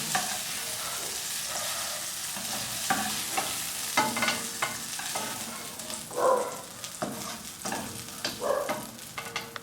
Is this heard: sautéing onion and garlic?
yes